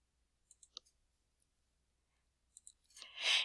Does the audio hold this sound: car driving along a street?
no